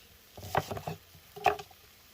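Knife cutting a shallot into thin strips on a board, with two separate clusters of crisp chopping strokes against a quiet background.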